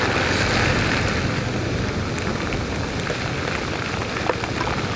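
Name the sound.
heavy rain falling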